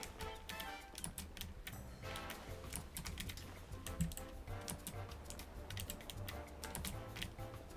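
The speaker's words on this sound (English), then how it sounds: "you get to hear the furious clicking of my space bar as I go" Rapid, furious clicking of a computer keyboard space bar during a platform-jumping game, dense irregular taps running continuously close to the mic over a steady background of game music.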